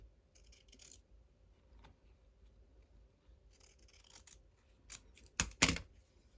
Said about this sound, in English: I might trim a bit off, I've got too much.